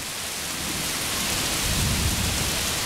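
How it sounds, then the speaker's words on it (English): Heavy rain pours down steadily as a dense hiss, with a low rolling rumble of thunder building in the background partway through. "Oh, listen to the thunder"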